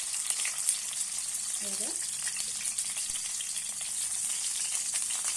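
Brinjal pieces fry in oil with a steady, dense sizzle and crackle close by, while a voice speaks briefly over it.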